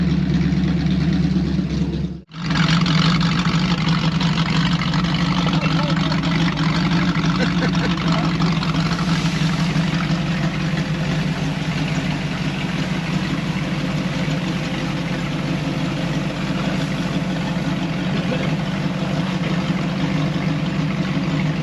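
A car engine idles steadily as it burns off old gas, a loud, continuous low rumble that cuts out briefly near the start and then runs on evenly.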